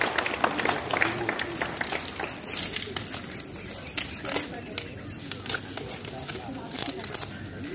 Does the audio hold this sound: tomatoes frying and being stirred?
no